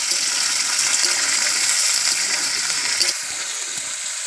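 Potatoes sizzle steadily in hot oil with cumin seeds in a pan, cooking for ghugni; a dense, even frying hiss carries throughout and eases slightly near the end.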